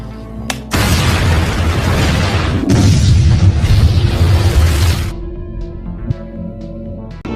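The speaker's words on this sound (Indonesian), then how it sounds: "tiba-tiba mesin kopi tersebut meledak" A coffee machine explodes in a film scene: a sudden loud blast that roars and rumbles for several seconds, then cuts off into quieter debris clatter and faint ringing.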